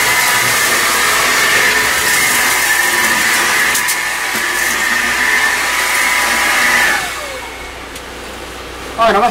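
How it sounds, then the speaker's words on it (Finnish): A vacuum cleaner whines loudly inside a motorhome, drone steady and close, then dropping away as it shuts off near the end, followed by a brief loud bump. "Aina me sitten välillä kans tätä autoa me imuroidaan täällä sisätiloissa"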